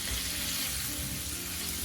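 Chicken frying gently in oil over medium heat gives a steady, dense sizzle and crackle, heard up close with no voices.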